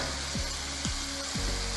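Chili powder frying in oil in a pan over medium flame for a Kerala-style beef curry, a steady close sizzle with a few soft stirring scrapes.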